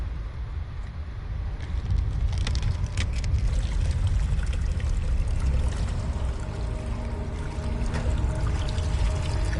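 Steady watery trickling and dribbling, with scattered drips over a continuous low rumble of flowing water, fairly close and constant throughout.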